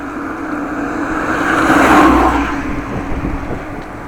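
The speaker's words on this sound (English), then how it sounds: "Van driver was driving quite fast, but slowed down for the corner, not for me." A van drives fast past a cyclist on a windy Dutch country road, its engine and tyre roar swelling to a peak midway and then fading, with wind noise underneath and no talking.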